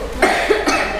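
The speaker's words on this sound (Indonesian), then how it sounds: "Batuk-batuk ya." A person coughs three times in quick succession at close range, short harsh bursts during an acting rehearsal.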